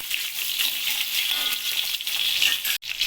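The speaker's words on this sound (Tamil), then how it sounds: "இப்போ நம்ம 10 பல்லு பூண்டு, 10 பல்லு சின்ன வெங்காயம் போட்டு நம்ம எண்ணெயில் நல்லா வதக்கிட்டு இருக்கோம்" Garlic cloves and small shallots sauté in hot oil for vendhaya kulambu, giving a steady, close hiss and sizzle that runs unbroken apart from a brief dropout near the end, with no talking.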